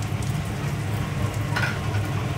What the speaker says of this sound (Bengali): এখানে পেঁয়াজটা এখন ভাজা চলছে